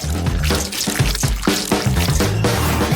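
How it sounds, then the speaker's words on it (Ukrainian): Jelly mixture pours into a silicone mould, a wet dripping and splashing of liquid that continues in uneven bursts, close and fairly loud, with no talk. "В неї я і вилю нашу желейну суміш"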